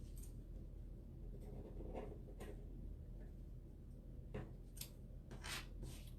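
Faint, close snipping and rubbing of a poor pair of scissors cutting craft material for a chalkboard project, a few irregular crisp cuts spaced out over a quiet background.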